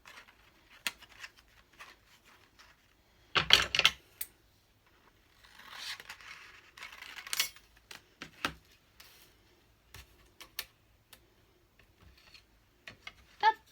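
Scissors cutting paper for a champagne-glass birthday card, with a few crisp snips and rustles scattered through near silence.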